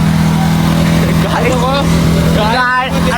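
Steady, loud engine hum of a vehicle being driven, running beneath people talking.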